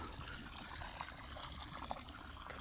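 Irrigation water begins flowing across a village field in Punjab, making a faint, steady trickling wash with low rushing noise throughout and no talking.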